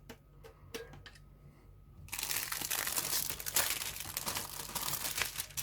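A plastic bag holding model kit sprues for a 1/35 scale Rye Field Sherman Firefly crinkles loudly and continuously close up, following a few light taps and handling sounds.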